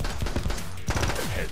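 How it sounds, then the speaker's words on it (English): Rapid automatic gunfire from an Uzi submachine gun in a video game, a dense close burst of shots filling the short moment with no pause. "looks like we're working with an Uzi"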